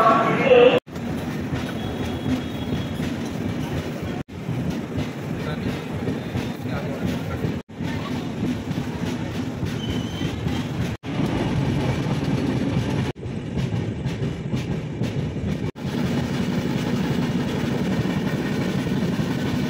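The 12809 Mumbai CSMT–Howrah Nagpur Mail rumbles steadily along the rails, heard from inside the coach with a constant low roar and repeated sharp rhythmic clacks over rail joints, while someone talks intermittently.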